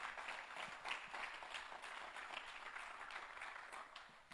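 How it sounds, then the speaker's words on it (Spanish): Applause from a church congregation during a sermon, a faint, fairly distant patter of many hands clapping that holds steady throughout. "Dale un fuerte aplauso al Señor"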